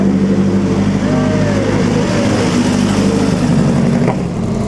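A loud four-cylinder Ferrari engine at the Mille Miglia gives off a continuous close rumble, with its pitch rising slightly near the end and a constant low throb underneath.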